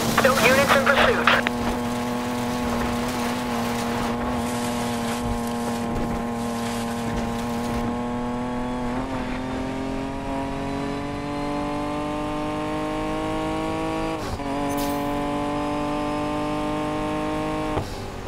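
Car driving fast in the racing game Need for Speed Payback: a loud, sustained engine drone with shifting pitch that rises and falls through gear changes, with talk over it.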